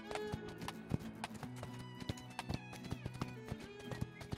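Horse galloping in the video game Spirit Lucky's Big Adventure, a steady run of rhythmic hoof clip-clops over a droning game music bed, moderately close.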